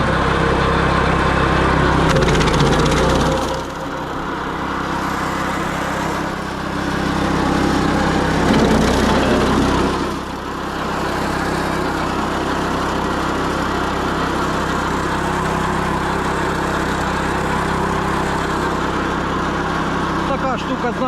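Wood chipper shredding branches of acacia firewood, a loud running engine drone with grinding surges and brief dips as wood feeds through, continuous and close.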